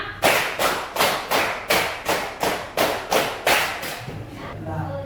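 A group claps hands in a steady, quick counted rhythm of about ten sharp, close claps, then the clapping stops and faint murmuring is left.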